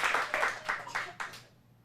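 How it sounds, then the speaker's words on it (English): A round of clapping from a small group in a children's acting class, about five quick bursts of claps in a row that stop abruptly, leaving quiet room tone. "One more round of applause"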